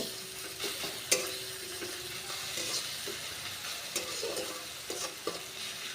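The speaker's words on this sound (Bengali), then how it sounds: "এই সব কিছু আমি একসঙ্গে নেড়ে চেড়ে মিশিয়ে নেব, আর লো টু মিডিয়ামে ফ্লেমে মশলাগুলো কষিয়ে নেব।" Spices stir-fried on a low to medium flame with a sugar pinch added, giving a soft continuous sizzle with scraping stirs and a few sharp spatula knocks against the pan.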